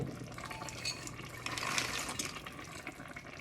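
Cranberry beans, also called October shellers, tumble into a pot of cabbage soup with a splashy, liquid rattle that swells briefly in the middle and then settles. Close and moderately quiet, with no talking.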